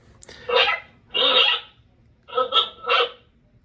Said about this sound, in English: And there's the meow.